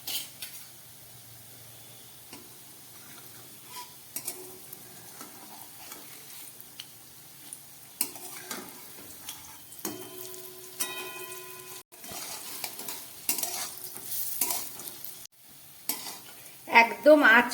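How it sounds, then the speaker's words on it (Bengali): Raw banana dhoka pieces fry gently in oil over low heat, a soft, faint sizzle with scattered stirring clinks that grow busier and louder toward the end, no one speaking. "কাঁচকলার ধোকাগুলো ভাজা হচ্ছে।"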